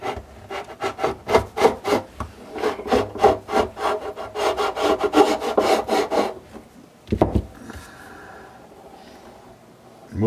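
Fret tangs on a dried-out La Patrie classical guitar are filed with a steady run of loud, rhythmic rasping strokes, close up, then a couple of slower scrapes and a quieter tail with no talking.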